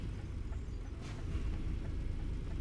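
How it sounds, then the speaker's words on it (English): A truck engine hums at a steady low drone while driving in Euro Truck Simulator 2, continuous and fairly loud, with no other sounds standing out. "if there's any truck that I'm driving, you guys feel like the engine sound is too loud"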